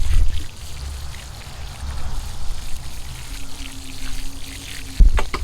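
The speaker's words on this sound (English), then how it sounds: "Okay, now we're going to water everybody in." Water pours steadily over newly planted young kale in a raised garden bed, a continuous splashing stream lasting several seconds with a faint low hum beneath and a brief knock near the end.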